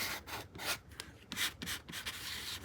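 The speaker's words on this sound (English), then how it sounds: "I want to use a scraper, so hopefully I don't smear yuck all over" A scraper drags glue across a fragile book page in a junk journal, giving a few soft rubbing strokes, close and fairly quiet, with no talking.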